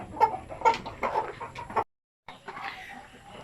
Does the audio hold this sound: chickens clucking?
yes